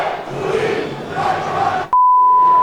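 A football stadium crowd at a Série A-2 match between São José and Grêmio Prudente at Martins Pereira roars in protest at the referee over half-time, a loud sustained din that cuts off into a steady electronic beep.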